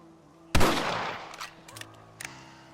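A rifle shot in the Western video game Red Dead Redemption, one sharp loud blast with a ringing tail, followed by fainter clicks and scattered small sounds.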